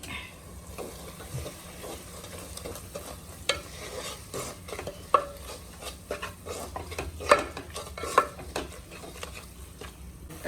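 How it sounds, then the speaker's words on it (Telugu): Chili powder, ginger-garlic paste and turmeric being stirred in a pan for mutton curry: a soft, steady sizzle with scattered spatula scrapes and clicks against the pan, fairly quiet and without speech. "కారం అల్లం వెల్లుల్లి పేస్ట్ కొంచెం పసుపు కూడా వేసి అల్లం వెల్లుల్లి పేస్ట్ కొంచెం ఎక్కువ వేసుకొని బాగా తిప్పాలి"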